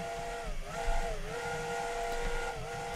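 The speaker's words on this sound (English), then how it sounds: "If we just quickly show you the whistle again" The Flying Scotsman steam locomotive in Train Simulator 2017 sounds a sustained chime whistle, a steady multi-tone blast that dips briefly in pitch a few times over a low rumbling hiss, with no one talking.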